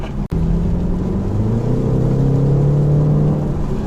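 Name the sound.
car exhaust sound in sport mode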